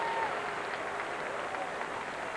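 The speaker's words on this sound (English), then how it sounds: "There's a wonderful round of applause comes out around the stadium." Crowd applause spreading around a rugby stadium in Canberra during a France v Scotland World Cup match, a steady broad wash of clapping and crowd noise that holds at an even level throughout, with no talk over it.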